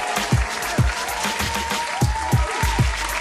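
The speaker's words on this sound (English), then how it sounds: "Let's clap it up for them." A studio audience claps on a morning talk show, a steady broadband patter of hands with a few heavy low thumps mixed in.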